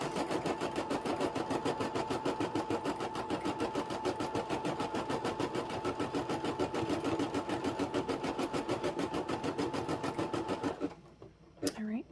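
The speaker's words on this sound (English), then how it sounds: "It's going to now stitch out the placement stitch for the bow." A Brother embroidery machine stitches an applique placement outline for a bow, a fast steady mechanical chatter running continuously and close up before stopping near the end, with brief clicks after.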